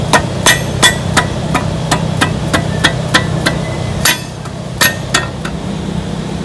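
Sharp, loud hammer blows tap a sway bar bracket onto the mount of a Jeep Wrangler during a Pro Comp 4-inch lift install, striking in an uneven series of about a dozen metallic hits over a low steady hum.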